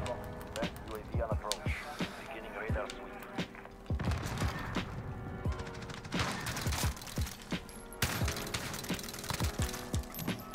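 Uzi submachine gun fire in a Modern Warfare Search and Destroy match, sharp shots and crashing impacts in short clusters against steady game background sound, with players talking over the action.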